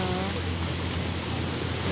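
Steady broadband wash of ocean surf at Sai Wan Ho, Kennedy Town, with a low rumble, continuous and fairly loud, with faint voices underneath.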